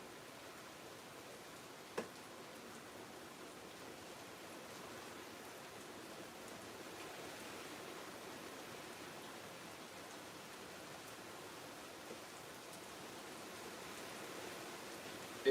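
Steady rain falling outside, a soft continuous hiss that stays even and fairly faint for the whole stretch, with one brief tap near the start and no voices.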